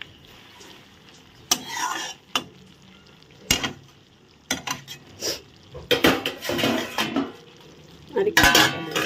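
Ridge gourd being stirred in a cooking pan: a series of close metallic scrapes and clinks of a utensil against the pan in irregular bursts, with a soft sizzle underneath.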